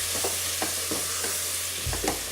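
Tomato being stirred into a hot frying pan, with a steady sizzle and a few soft scraping strokes of the spoon at irregular intervals, close and clear with no talking.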